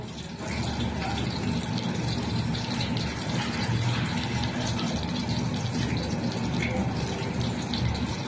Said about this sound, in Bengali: আরেকটু জল বাটিতে রেডি করে আনবো